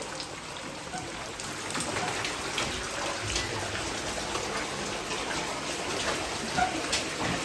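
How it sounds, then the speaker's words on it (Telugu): Water pours steadily out of a tunnel at an old temple, a constant close rushing splash with no break. "ఈ టనల్లోకి నుంచి అయితే వాటర్ వస్తున్నాయి."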